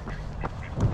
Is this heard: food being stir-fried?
no